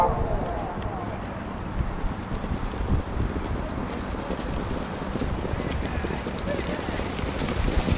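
Horses gallop in a harness race at Tallinn Hippodrome, their hooves beating in a steady, continuous rhythm along the track under wind noise, while a commentator talks throughout.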